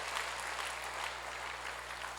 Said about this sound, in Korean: 위대한 박수로 하나님께 영광